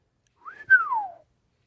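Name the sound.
whistle imitated by audiobook narrator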